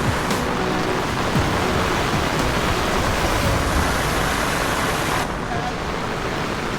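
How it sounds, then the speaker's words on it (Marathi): Heavy monsoon rain in a village hit by flooding and nonstop downpour falls as a loud, dense, continuous hiss that fills the whole clip, steady and close with no break. "बेकार पाऊस पडत झाला"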